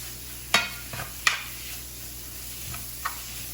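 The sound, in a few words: chicken sizzling while being stirred in frying pan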